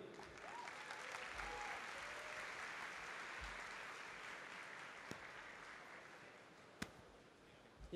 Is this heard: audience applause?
yes